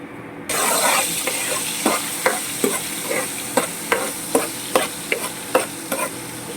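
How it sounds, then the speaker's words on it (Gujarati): Asafoetida and tomatoes dropped into hot oil for tempering, a sudden loud sizzle that keeps hissing steadily while a spoon scrapes and stirs the pan in a regular rhythm, close up. "તો હવે હિંગ મૂકી અને ટમેટાનો વઘાર મારી દઈશું."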